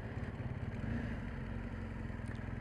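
A motorcycle rides up slowly outside a motorcycle dealership, its engine a steady low rumble with faint clatter that holds even and continuous, with no sharp revving.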